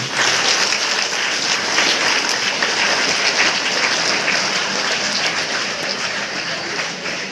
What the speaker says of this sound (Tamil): வரவேற்புரை வழங்க 11ஆம் வகுப்பு மாணவி கணினி பிரிவைச் சேர்ந்த செல்வி ரித்திகா அவர்களை உங்கள் கைத்தட்டலுடன் வரவேற்கிறேன்.